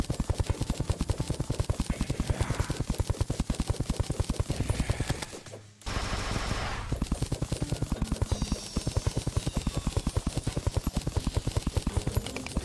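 Rifle fire in Terraria with the Calamity mod rattles off in a fast, steady, evenly spaced stream of loud shots, dropping out briefly once before resuming at the same pace.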